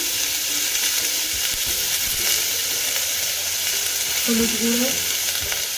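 Vegetables sautéing with ginger paste and spices in a pan: a dense steady sizzling hiss close by, with occasional stirring scrapes, while a voice speaks briefly over it.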